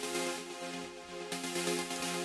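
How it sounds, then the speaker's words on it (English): Bright, buzzy saw wave synth stabs in an electronic production, sustained harmonic chords with a slight shift in texture midway, steady and fairly loud with no voices. "There are a few other saw wave stabs."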